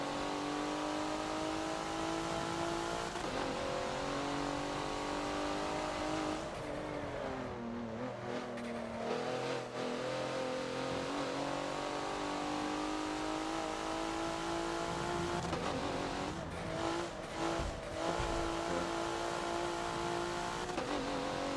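Race car in a Forza game on the Rio National Reverse track, engine screaming at high revs and rising in pitch through the gears, with brief dips as it lifts off the throttle and a loud, close, sustained roar.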